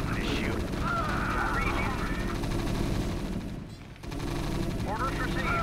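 Continuous battle gunfire in StarCraft Remastered during a Brood War Terran mission, a dense, steady rattle with a low mechanical rumble underneath, with a brief dip before resuming.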